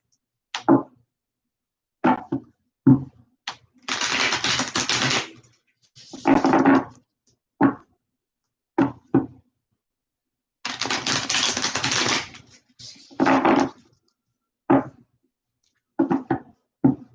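Cards of a Divine Feminine Oracle deck shuffled by hand at close range in two long riffling bursts, separated by sharp taps and snaps of the deck being squared on a surface, with no talk.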